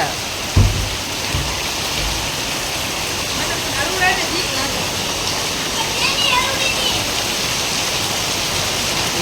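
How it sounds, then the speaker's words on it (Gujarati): Steady heavy rain pours down in a continuous broadband hiss, with a brief thump near the start and faint voices in the background. "બહુ વરસાદ આવે છે"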